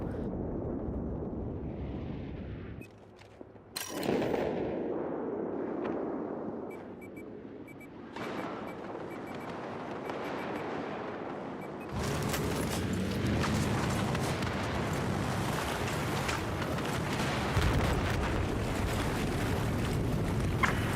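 Anti-materiel rifle fire in a battlefield video game: heavy booming blasts with a sharp crack near the start, then a dense rumbling roar of battle noise filling the rest of the stretch.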